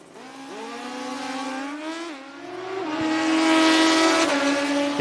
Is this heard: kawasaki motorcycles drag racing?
yes